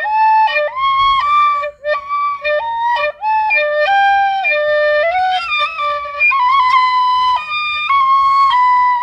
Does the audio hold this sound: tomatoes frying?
no